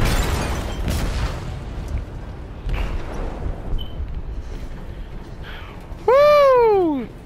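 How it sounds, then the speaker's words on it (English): A deep, rumbling explosion booms inside a ship's hold in Detroit: Become Human, a low roar filling most of the moment before a sharp, falling whistle-like cry cuts in near the end. "They detonated an explosive in the hold."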